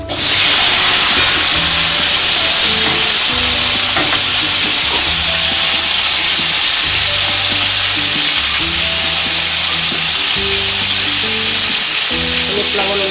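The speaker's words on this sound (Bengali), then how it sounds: "তেলে ছাড়বো ভাজার জন্য" Loud, continuous sizzling of potatoes frying in hot oil, close up, with occasional stirring and a constant hiss throughout.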